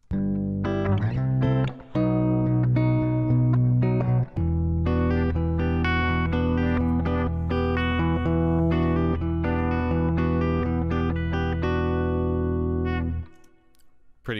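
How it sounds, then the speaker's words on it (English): An electric guitar runs through a bass patch in Bitwig 2.3 with the audio-rate effect switched off, giving a sustained, loud, tonal synth-like bass line with a few short breaks and a sudden stop near the end. "So this is what it's like without that audio rate effect on."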